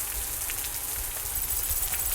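Game rain in Osiris New Dawn patters steadily on surfaces with a bright hissing wash and scattered louder drops, continuous and close, with no talking.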